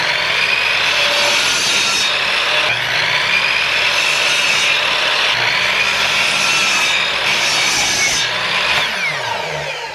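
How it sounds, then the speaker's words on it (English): A chop saw cuts across the ends of reclaimed lumber, a loud close whining buzz that rises into several sustained cuts with brief breaks between passes, alone without talk. "Now I got to square the ends. For that we got to use the chop saw."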